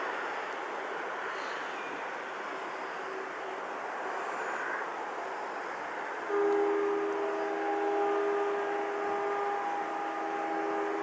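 A train rumbles past steadily at Łowicz Główny station in winter, with a drawn-out tonal whine rising partway through as it goes by at moderate distance.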